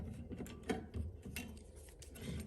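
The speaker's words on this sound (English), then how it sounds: "And now we're gonna unscrew the old wires." Old wires being unscrewed on a Mazda RX7 with a rotary engine, giving close, irregular mechanical clicks and ratcheting turns with small metallic creaks, and no talking.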